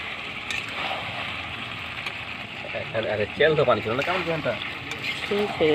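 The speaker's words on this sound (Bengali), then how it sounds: "অফ ক্যামেরাতে দিয়ে দিয়েছিলাম মাংসটা কষাতে, আর কিছুক্ষণ কষিয়ে আলুটা দিয়ে দিলাম, আরও কিছুক্ষণ কষিয়ে নেব" Mutton and potatoes sautéed with spices in a pan, with a steady close sizzle and occasional stirring under a person talking for much of the second half.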